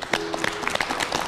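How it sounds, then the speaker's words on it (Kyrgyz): A studio audience on a Kyrgyz talk show claps for a guest named Sherbolot, with distinct close hand claps in a brief, moderately loud burst. "Шерболотко катыраак кол чаап коелу"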